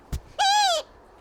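Owl calling outdoors in Ireland, a short tap followed by a single clear, loud hooting screech with strong harmonics lasting under half a second, then quiet.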